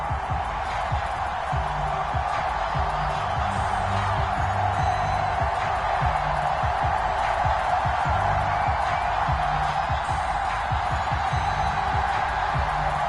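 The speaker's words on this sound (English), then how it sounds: "Somehow this place got even louder a short time ago as the Falcons were introduced to this sellout crowd" Roaring stadium crowd in an EA Sports NFL video game on PS4, a steady, dense wash of cheering and noise with rhythmic low pulses underneath, constant and fairly loud throughout.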